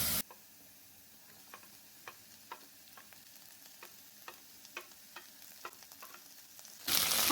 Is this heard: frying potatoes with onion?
yes